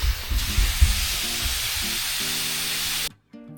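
An automatic garden sprinkler on a morning watering schedule sprays water in a steady close hiss that runs unbroken for about three seconds, with a low hum underneath, then cuts off abruptly.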